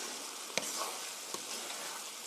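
Pork with oyster mushrooms sizzles steadily in a pan, seasoned with ground black pepper, with two sharp clicks of a utensil against the pan breaking through the constant frying hiss.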